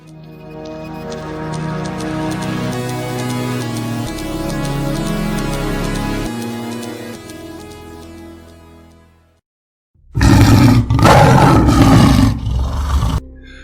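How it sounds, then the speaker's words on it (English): A tiger gives a loud, close, rumbling roar in two or three surges, following a long passage of dramatic orchestral music that fades out just before it. "That was a tiger's roar, my dear Eric"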